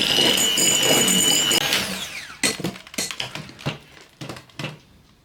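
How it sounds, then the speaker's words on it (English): A mixer beats egg yolks with butter for Icelandic Christmas egg cookies, a whirring motor hum for a couple of seconds, then stopping into a series of uneven knocks and taps. "So we are going to beat our egg yolks in butter"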